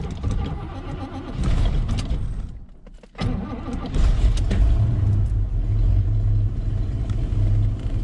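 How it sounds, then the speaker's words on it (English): A Chevrolet El Camino SS with a 454 V8 cranks and catches, stumbles and nearly dies, then restarts and settles into a loud, deep, lumpy idle close by. "It's idling."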